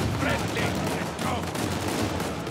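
Gunfire in the video game Uncharted: A Thief's End crackles in dense, continuous shots, with players' voices talking over the shooting throughout.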